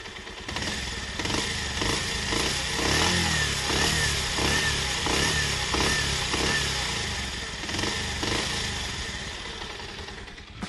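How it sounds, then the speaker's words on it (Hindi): A Bajaj Pulsar 125 motorcycle engine running steadily with rhythmic revving pulses, fairly loud and close, easing off slightly toward the end. "अभी मैं इसको रखने वाला हूँ इंजन के पास and then I will rev again."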